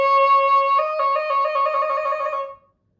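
A baroque oboe sustains a clear reedy note, then breaks into a rapid trill resting on the lower D, held for a couple of seconds before fading out, close and solo.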